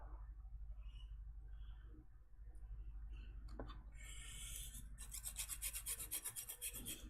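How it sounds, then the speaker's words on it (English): An old hacksaw blade scrapes rust off car brake parts in short, raspy filing strokes, quiet at first, then fast, loud back-and-forth rasping in the last couple of seconds. "So rather than using the old brake file, we'll use an old blade from a hacksaw."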